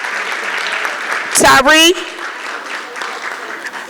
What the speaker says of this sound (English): please hold your applause to the very, very end